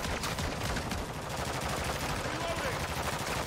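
Rapid automatic gunfire rattles on without pause in MWZ Zombies, the Modern Warfare Zombies game, dense overlapping shots forming a loud, continuous barrage.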